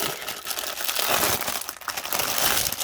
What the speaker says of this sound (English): Sorry for the crinkling, folks.